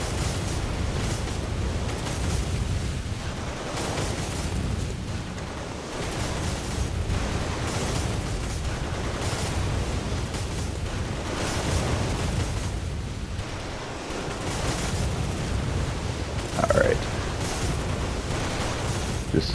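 Continuous heavy rumbling gunfire and explosions in Bloodborne's Hunter's Nightmare, with several guns firing at once in a dense, loud barrage that barely lets up.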